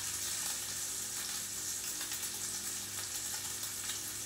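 Bacon sizzles steadily in a pan beside pasta cooking, a close, even frying crackle with no talking.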